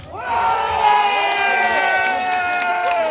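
A large crowd in a village square cheers and shouts together at a concert, a loud sustained roar of voices with whoops rising over it, close and continuous.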